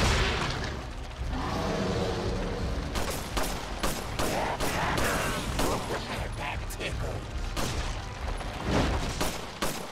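Machine gun fire in Resident Evil 4 during a boss fight, sharp rapid bursts and booming shots cracking across the whole stretch with dense, loud reports and brief gaps between volleys.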